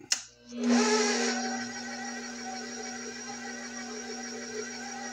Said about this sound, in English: Mix first gear less than a minute.